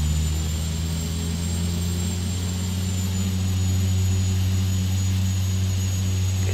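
Turboprop aircraft engine running up to higher power in the X-Plane flight simulator, a steady loud drone with strong low tonal hum and a high whine, continuous and close throughout, with no talk.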